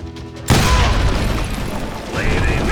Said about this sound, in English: I was just glad I had Deputy Bob's mean-ass shotgun.